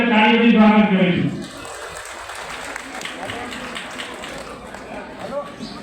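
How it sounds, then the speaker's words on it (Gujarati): Applause welcoming a guest at a gathering, a short burst of clapping alone at the start that quickly fades into quieter room sounds. "આપણે તાળીઓથી સ્વાગત કરીશું."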